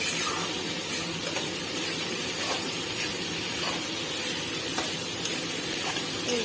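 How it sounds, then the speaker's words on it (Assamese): Capsicum and chicken frying in a pan make a constant low sizzling hiss with faint scattered crackles throughout. "তো এইখিনি অকণমান সময় আমি ভাজিম ভালকৈ, যাতে কেপচিকামটো ভালকৈ ভজা যায়।"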